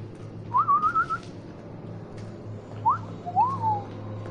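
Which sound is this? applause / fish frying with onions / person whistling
person whistling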